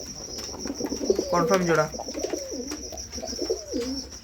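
Red Siraj pigeons coo in soft, repeated low rolls, a breeding pair close by, with someone talking over them and a steady high whine in the background.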